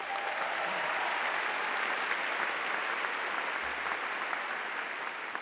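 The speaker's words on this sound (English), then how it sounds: "Would you please give them a round of applause?" Audience applause at a graduation ceremony, a steady wash of many hands clapping that holds evenly through the whole stretch without pause.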